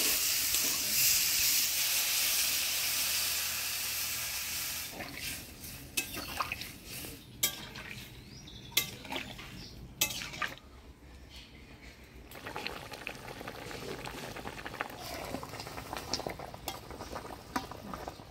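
Water poured into spiced elephant-foot yam in a Bengali village kitchen pan, first a loud hissing sizzle, then quieter bubbling with scattered clinks of a stirring utensil against the pot.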